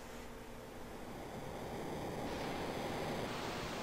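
Floodwater crashes across the scene in Chrono Trigger as a continuous broad rushing surge like ocean surf, swelling slightly partway through and holding steady, with no talking.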